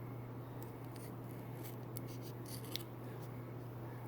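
Scissors cutting off part of a thin fob for a clip, a series of faint, soft snipping and rubbing sounds close by over a low steady hum.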